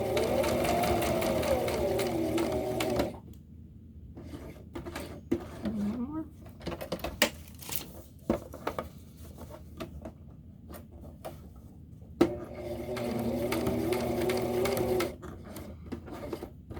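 Sewing machine stitching a backpack runs in a steady close whir for a few seconds, stops through a quieter stretch of handling, then starts stitching again before falling silent.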